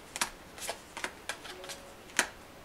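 Tarot cards being shuffled by hand, a series of about six quick papery riffles and flicks spaced irregularly, close and fairly quiet in an otherwise still room.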